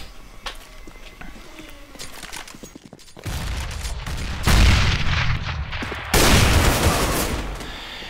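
Bursts of gunfire ring out in a competitive team shooter match as a player fires from a basement, with dense sustained volleys that swell loud around the middle and end, broken by brief pauses.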